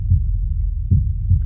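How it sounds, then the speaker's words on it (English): Heartbeat recorded for post-production sound design: low, thudding beats, the first two a short lub-dub pair and then another, each strong pulse with a soft reverberant tail in the gaps, alone with no talking. "we're going to modify the sound of a heartbeat, which sounds like this"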